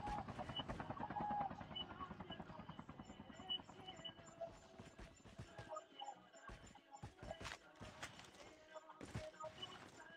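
A helicopter in a battle royale video game thumps with a rapid rotor chop, loud at first and then thinning into scattered game sounds and bursts of chatter.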